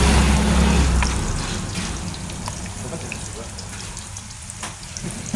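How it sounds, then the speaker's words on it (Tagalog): Onions and garlic browning in a hot pan give a steady broadband sizzle, loudest at the start and easing slightly, with faint utensil clicks and a low hum underneath. "Ato sa ipa brown guys ang sibuyas ug bombay guys."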